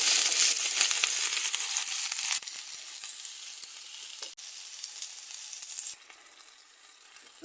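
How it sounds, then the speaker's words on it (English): Natural seasoning hits hot oil in a pot on the stove, producing a loud, bright sizzle that crackles steadily, shifts in tone partway through, then drops to a quieter hiss near the end, with no talking. "Now I'm gonna tip a little bit of oil in it. Now I'm gonna put in all my natural seasoning."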